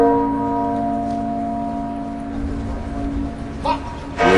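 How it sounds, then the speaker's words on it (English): A single half-muffled church bell tolls at St Paul's Cathedral during Margaret Thatcher's funeral, its steady, humming resonance lingering throughout, with fresh strokes toward the end over a faint crowd murmur. "Sound of one half-muffled bell from St. Paul's."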